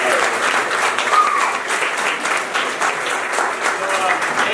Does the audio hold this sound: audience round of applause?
yes